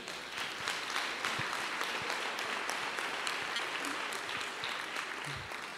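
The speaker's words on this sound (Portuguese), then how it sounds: "Uma salva de palmas para a Dilma." A church congregation claps together in a steady, sustained burst of applause that fills the room evenly, with a few brief voices rising near the end.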